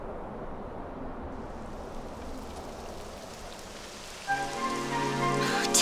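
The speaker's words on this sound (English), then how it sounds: "It would have to go and start raining, wouldn't it?" Rain begins falling in Dragon Quest XI, a soft steady patter on surfaces building up, with a brief game tone sequence entering near the end.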